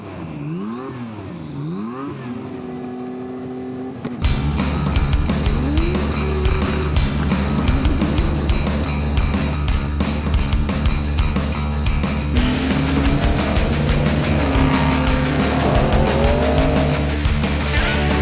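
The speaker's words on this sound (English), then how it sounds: "Once again, the cars are the first to attack the desert." Race cars roar along the dirt course of Australia's Finke Desert Race, engines revving loud and close with rising and falling pitch as vehicles accelerate and pass, continuous and dominant after a brief quieter opening.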